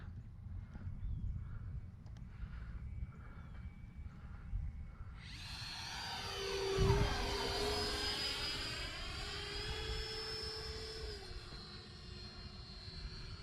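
A small Dynam RC model jet whines past overhead, its high-pitched turbine rising and sweeping in pitch as it flies by, with faint outdoor background noise.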